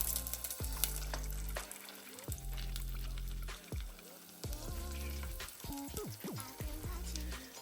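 Beignets frying in hot oil give a steady sizzle throughout, with tonal clinks and scraping accents scattered over it, fairly close and alone.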